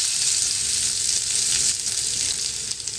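Grated ginger and garlic sizzling in hot oil in a pan with two dried red chillies, a loud, steady frying hiss that holds throughout with no talking.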